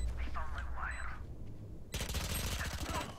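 Valorant gunfire erupts as a dense, loud burst of rapid shots in the second half, after a quieter stretch with a few game sounds and distant voices.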